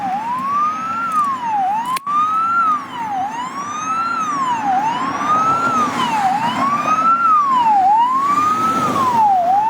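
An ambulance siren wails in a loud, steady rising-and-falling cycle close by, repeating for several seconds over road noise as the vehicle passes.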